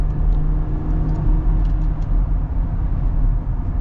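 A car accelerating on the road, heard from inside as a loud, steady low engine rumble with road noise throughout and no talk.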